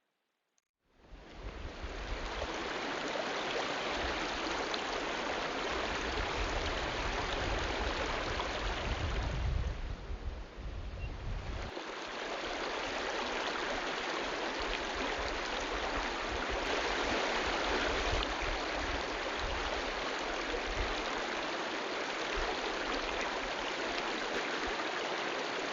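A river in Zion National Park rushes steadily and loudly for the whole stretch, a dense, continuous roar of flowing water close by with no voices.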